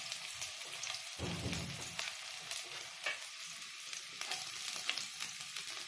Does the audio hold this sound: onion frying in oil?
yes